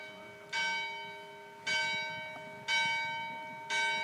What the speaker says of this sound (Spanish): Un respeto por las campanas.